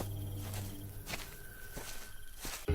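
Slow footsteps of a person walking toward a window late at night in a horror story, a few soft, evenly spaced steps with a faint high insect-like hum in the background.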